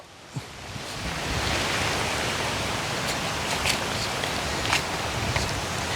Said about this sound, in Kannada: ಬಂಡೀಪುರದಲ್ಲಿ ಒಳ್ಳೆ ಮಳೆ ಬಂದ್ಬಿಡ್ತು